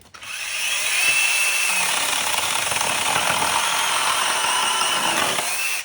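A Procraft PKA44 cordless chainsaw runs loud and close, holding a steady high whine and buzzing cut for several seconds before stopping abruptly, with no voices.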